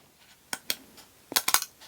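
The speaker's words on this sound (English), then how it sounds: "I'm pretty sure I can just cut mine with my scissors" Scissors snipping through a thin wooden shim from a craft cutout, a series of sharp crisp clicks and cracks, two spaced at first and then a quick cluster of four or five, close and clear.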